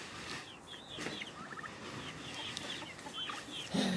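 Hens clucking softly in scattered short calls over quiet outdoor ambience, with a slightly louder low cluck at the end.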